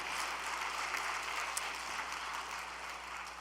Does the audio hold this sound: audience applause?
yes